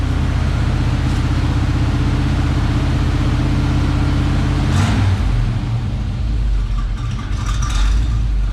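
Steady, loud low rumble of an old pickup truck engine idling, with the pitch shifting midway as it drops off high idle and settles into a rougher, lower idle.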